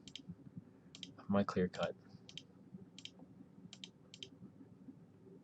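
Computer mouse clicks sound in short, sharp, evenly spaced pairs and singles across the stretch while someone talks quietly, the clicks close and distinct.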